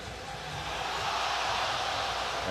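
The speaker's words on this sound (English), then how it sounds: "And that noise you just heard is the crowd getting a look at it on the Jumbotron here at Cameron" Basketball crowd at Cameron Indoor Stadium during Duke vs North Carolina, a broad rising roar of many voices reacting to a replay on the arena screen, distant and diffuse.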